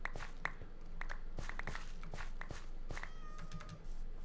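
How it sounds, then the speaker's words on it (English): Ocelot cat meowing in Minecraft, a video game with mods, with several short, sharp meows spaced through the clip alongside soft footstep-like clicks and a background hum; no talking. "Cat spawned in. Ocelot of some kind."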